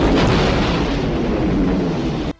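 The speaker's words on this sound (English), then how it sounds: "an exploder, which is an active nighttime ability, which makes a huge explosion" Exploder ability detonating in the video game Drill Core: one huge, dense, roaring blast rumbling steadily for over two seconds, loud and full, before cutting off abruptly, with no voices over it.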